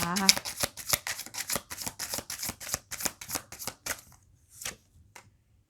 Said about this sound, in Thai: ขอเปิดไพ่สิบถ้วยนะคะ